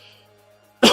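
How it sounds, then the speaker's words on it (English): One sudden, loud cough bursts out close to the microphone at the very end, breaking a quiet stretch of faint background hum. "I do have a little bit of a cough"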